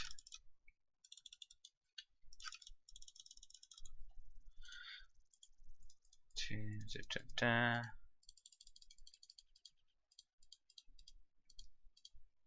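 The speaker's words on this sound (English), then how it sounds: "this is basically just clicking fest" Rapid mouse clicks while crafting in Minecraft with the Tekkit Classic modpack, crisp and close, coming in irregular bursts across the stretch, with a short spell of talk in the middle.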